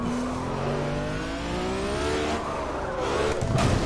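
A turbo race car in the Project Cars racing game holds its revs high, its engine note climbing and falling as it accelerates loud and close. A brief tire squeal comes near the end.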